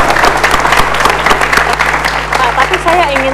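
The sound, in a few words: audience applause for Bapak Agus Gumelar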